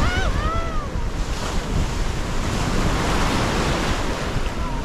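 Ocean waves wash steadily onto the shore of a small fishing island at Baththalangunduwa, Sri Lanka, a continuous close roar of surf mixed with wind buffeting the microphone and a few faint bird calls.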